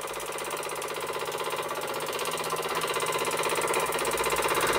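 An Albury Manor MK4 model steam engine runs steadily, its rapid mechanical beat continuous and close throughout, slightly building in loudness toward the end with no voices.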